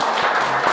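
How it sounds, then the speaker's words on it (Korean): A church congregation claps during a Sunday service to welcome visiting relatives, a brief burst of many hands with a few sharper individual claps standing out. "우리 함께 감사합니다 하고 함께 박수로 환영하겠습니다."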